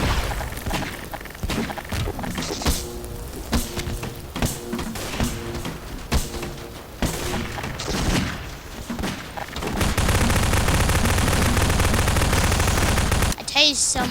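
Gunfire in the Garry's Mod Flood game, with repeated shots and thuds, some rapid bursts, and a dense loud stretch of continuous firing near the end, with voices talking at times.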